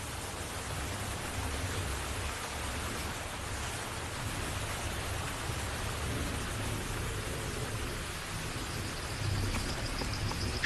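Steady rain pours down during a storm on the savanna where a pride of lions waits, a dense continuous hiss with faint low thunder rumbling beneath, no voices.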